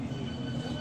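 A London Underground Hammersmith & City line train heading toward Barking runs steadily with a low rumbling drone, a constant close hum of carriage and rail noise without pauses.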